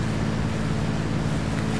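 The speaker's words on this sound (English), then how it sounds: "But we'll get in this boat since it'll be faster." A boat's engine drones steadily over rushing water in the Arma 3 video game, a loud, unbroken wash with no talking.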